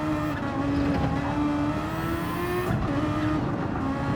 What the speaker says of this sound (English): It's definitely a bit of a strange downshift there.